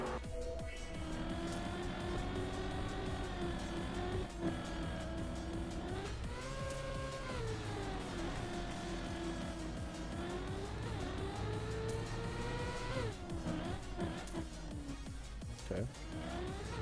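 Race cars in the Trackmania video game, a continuous engine whine rising and falling in pitch as the car accelerates and shifts, with occasional tire squeals and brief clicks, steady and close.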